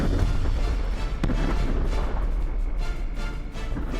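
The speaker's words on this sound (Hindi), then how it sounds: "जब गैस सिलेंडर आग की चपेट में आए तो धमाका शुरू हो गया।" Gas cylinders loaded on trucks blow up in a truck fire near Chintamani, Karnataka, producing a continuous heavy roar and rumble with deep booming bursts, loud and dense throughout with no clear voices.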